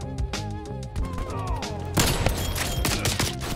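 Gunfire from a new sniper rifle in an online shooter game, sharp cracks ringing out amid a busy layer of game music and other battlefield shots, growing denser and louder partway through.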